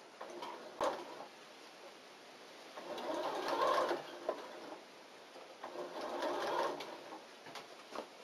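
A sewing machine stitches a hat crown to its brim in several short bursts of whirring, pausing between runs, fairly quiet and close with no talking.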